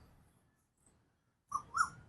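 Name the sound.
birds chirping in a garden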